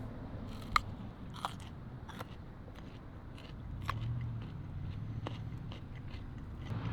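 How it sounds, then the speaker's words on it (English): Crisp raw carrot being bitten and chewed up close, a few sharp crunchy snaps followed by softer steady chewing, quiet and alone with no talk. "this might be one of the best carrots I've ever had. Perfectly crisp crunch"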